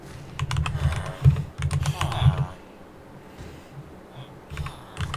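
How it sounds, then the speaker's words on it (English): Rapid clattering keystrokes on a computer keyboard during a Minecraft session, coming in dense bursts with short pauses, close and fairly loud, with a voice talking over parts of it. "Oh god, typing is hard"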